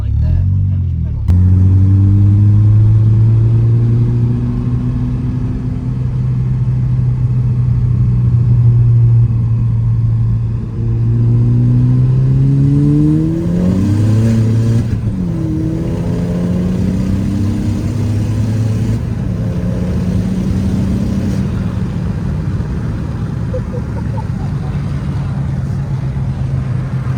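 A big-turbo Ford Focus ST pulls hard in second gear, its loud engine note climbing steadily in pitch with a dip around a shift, continuous rumble and revving throughout, with people talking inside the car.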